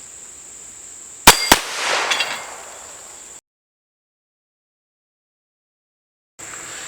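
Two sharp, loud gunshots from an Extar EP9, a blowback-operated 9mm pistol that takes Glock magazines, fired in quick succession outdoors, followed by a trailing echo and then sudden silence.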